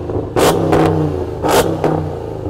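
Hennessy Mammoth pickup truck, built on the Dodge Ram TRX, revved hard twice, each loud roaring burst climbing and dropping back to a rumbling idle close by, with no talking.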